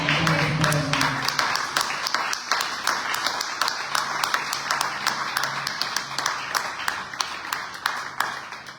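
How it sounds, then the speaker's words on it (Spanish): Congregation applauding the Lord during a church service, a dense, steady wash of many hands clapping that carries on for the full stretch at fairly even loudness, with a faint voice or tone lingering low at the start. "aplauso al Señor"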